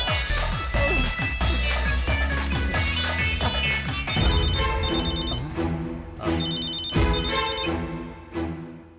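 A telephone bell rings loudly in repeated bursts during an outgoing call in a Tamil TV serial, the ringing fading and returning at the end, with background music beneath and no talk.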